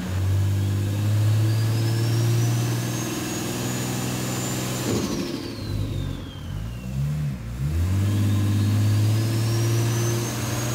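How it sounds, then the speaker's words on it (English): A Toyota Crown wagon, JZS171 model, revs its engine hard with a rising turbo whistle, drops off to a sputtering idle mid-way, then climbs back into a loud sustained rev, close up with no talking. "How about just making some turbo noises then?"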